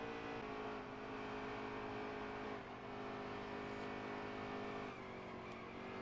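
Race car engines drone steadily in the NASCAR Heat 3 video game at Dover, a continuous layered engine roar with faint shifts in pitch, low in level and with no talk.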